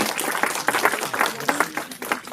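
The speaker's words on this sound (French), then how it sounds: "Sous une ovation d'applaudissements." An audience gives a short ovation, with steady clapping that swells in rhythmic bursts for a couple of seconds, fairly close and loud, with no talking over it.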